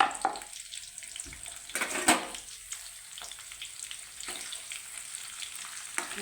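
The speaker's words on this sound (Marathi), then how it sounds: "आता पण टाकू याच्यामध्ये कांदा चिरलेला बारीक." Finely chopped onion tipped into hot oil with cumin and mustard seeds for a potato-pea sabzi, bursting into a bright crackling sizzle with a clank of utensils, then a steady, fairly quiet frying hiss, no voices.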